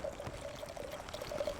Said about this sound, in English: When you're pouring in your glass of wine, you want to kind of go right up to that